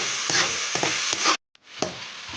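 Onion, ginger, green chilli and curry leaves sautéing in oil for upma, a bright close sizzle with a few spoon scrapes, cut by a brief silent gap before the frying resumes.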